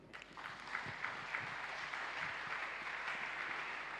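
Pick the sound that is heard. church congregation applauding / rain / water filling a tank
church congregation applauding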